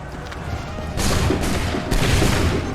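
Musket volley gunfire in the Assassin's Creed 3 Remastered video game, a dense roaring burst of massed shots that swells loudly at about one second and again near two seconds, with no voices over it.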